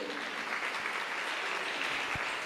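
Church congregation applauding after testimonies of prayer and deliverance, a dense, steady wash of many hands clapping at once, fairly loud and continuous throughout with no talk over it.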